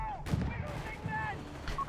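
Autocannon and machine gun fire from a 250/9 half-track in Company of Heroes 3, short sharp distant bursts under a commentator's talk.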